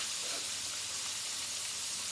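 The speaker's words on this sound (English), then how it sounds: "I keep on frying." A chicken fillet frying crisp in a pan for a homemade burger, giving a soft, steady, continuous sizzle and hiss at low level with no talk over it.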